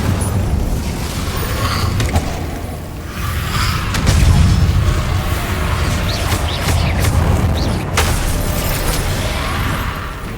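Incendio fire spell cast again and again in Hogwarts Legacy: loud, dense roaring bursts with deep booms and mechanical clatter, one after another, and no talking.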